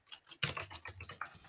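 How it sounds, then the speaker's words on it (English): Quick keystrokes on a computer keyboard while building a notes workspace, a soft irregular run of clicks close to the mic, with no talking. "I might just stop typing."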